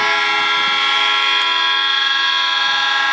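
Gravel-carrying freight train passing in the rain beside an abandoned hotel, a steady loud drone of wagons and engine with strong sustained tonal horn-like harmonics throughout, no voices.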